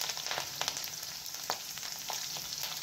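Garlic cloves, curry leaves and green chillies frying in hot oil for brinjal curry: a steady soft crackling sizzle with small pops, fairly quiet and close, no voices.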